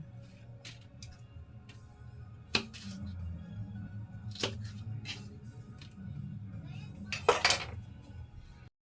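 Metal cookware clanking in a kitchen, several sharp knocks and scrapes of a pot at irregular intervals over a low background rumble.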